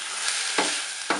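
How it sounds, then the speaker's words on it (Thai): Diced pork being stirred into a pot of macaroni soup on the stove, a steady sizzling hiss broken by two scraping stirs, close and alone. "เราก็จะใส่เนื้อลงไปก่อนนะคะอันนี้เป็นเนื้อหมูนะคะ เนื้อหมูหั่นเต๋า"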